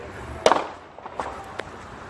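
Gunshots ring out during a road rage shootout in West Houston: one sharp crack followed by a few fainter pops over the next second, somewhat distant against a low outdoor rumble.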